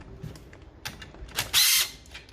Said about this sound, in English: use a gun to take these bolts out